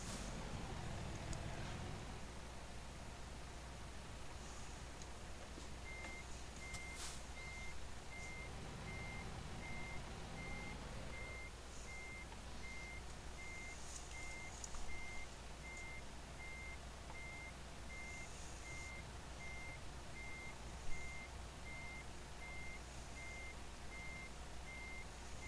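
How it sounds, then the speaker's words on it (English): A forklift reversing in American Truck Simulator gives off a steady run of evenly spaced high beeps, fairly faint, over a low idling engine drone. "Looks like the forklift's ready to go, ready to unload all these Christmas presents."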